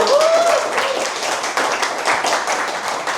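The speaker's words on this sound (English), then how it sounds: "Can we have a round of applause for Mayur?" An audience applauds at a talk: a burst of close, crisp hand claps from many people, steady and dense throughout, with a brief whistle at the start.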